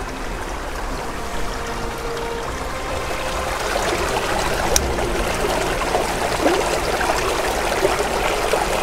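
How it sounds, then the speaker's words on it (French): Small stream running behind a garden pond: a steady, continuous trickle and gurgle of flowing water, moderately close, with no talk over it. "il y a un petit ruisseau, juste derrière l'étang"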